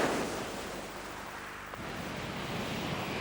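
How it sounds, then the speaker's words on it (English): Sea surf and gusting wind on the Orkney coast in autumn make a broad, steady roar that stays loud and continuous throughout, with no voices. "The sea and the wind make bolder statements."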